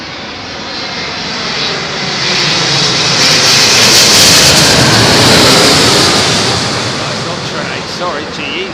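An airliner, a 200 variant with GE engines, roars in on arrival to runway 27L at London Heathrow during thunderstorms. The broad, loud jet rush swells to a peak as it passes close, then slowly fades.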